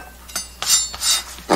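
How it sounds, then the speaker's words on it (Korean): Knife chopping washed shepherd's purse finely on a cutting board, a few close, sharp cuts and knocks in quick uneven succession. "냉이를 우선요 비벼 먹기 좋게 잘게 썰어 주겠습니다"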